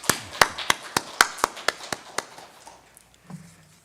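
A church congregation gives a short round of applause for newly arrived evangelists' families: about a dozen sharp, fairly even claps over two seconds, quickly thinning and fading into quiet room tone.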